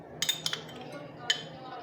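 A spoon clinks a few times against a cup or jar while two tablespoons of coffee are added for a whipped dalgona coffee, giving light, quick metallic taps followed by a softer single clink.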